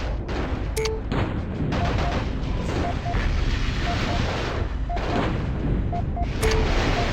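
Enemy weapon fire in the MechCommander video game, a dense continuous barrage of gunfire and explosions with sharp interface beeps and tones scattered throughout.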